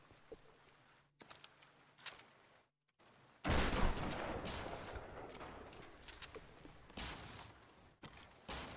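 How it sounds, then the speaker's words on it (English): Gunfire in the action game Tomb Raider (2013), with scattered sharp blasts early on, then a dense loud barrage of shots and crashing effects that continues with several distinct bangs before fading to quieter game sounds. "Gonna blast up with a shotgun, apparently."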